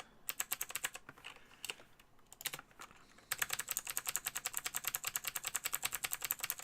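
Rapid clattering keystrokes on a computer keyboard during a King's Quest game session, sparse and uneven at first, then a fast steady stream of close, crisp clicks with no talking.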